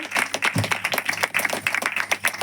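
Congregation clapping during a Hindi-language church service of praise, a dense run of hand claps with rhythmic pulses throughout, fairly close and continuous.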